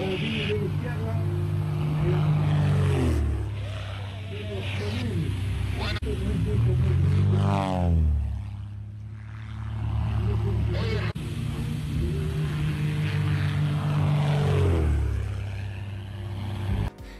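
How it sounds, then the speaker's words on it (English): A plane flying low and performing tricks close to the ground, its engine swelling and fading in repeated loud passes with pitch sweeping up and down, with voices heard at points. "This plane performing some cool tricks close to the ground."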